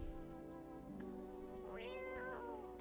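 A cat in a video game gives a short, clear meow with a rising then falling pitch, heard close over a soft steady background.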